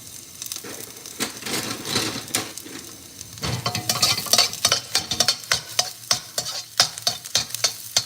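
Mild minced garlic sizzles in a hot pan for pad see ew, a steady frying hiss broken by repeated scraping stirs and light clanks of a utensil against the pan.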